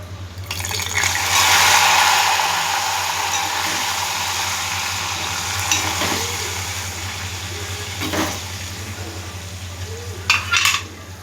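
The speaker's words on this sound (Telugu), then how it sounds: "తాలింపు కూడా చేసేస్తున్నాను." A loud burst of hissing as spices hit hot oil for tempering tomato rasam, settling into a steady sizzle with a few soft clinks of utensils.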